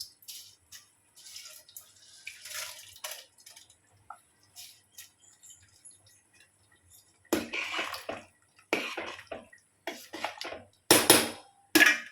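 Soaked rice tipped into a pot of boiling water for chicken biryani, heard as a few separate splashy pours and rattles, with quiet gaps between them and louder bursts toward the end.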